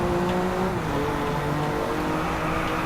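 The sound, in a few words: car drifting in the video game Driveclub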